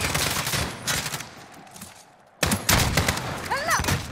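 Rapid gunfire from the video game Call of Duty: Modern Warfare, in its finale mission, goes off in dense loud volleys. There is a short lull in the middle before the volleys return, and shouted voices come in over the shooting.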